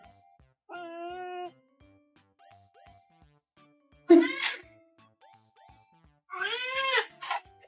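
A cat meows three times, each a clear, drawn-out call separated by near silence. A short burst in the middle may be a sneeze.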